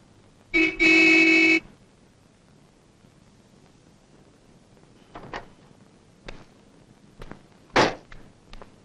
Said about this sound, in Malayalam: കാറ് ഹോണടിച്ചാ വന്നൂടെ നിനക്ക്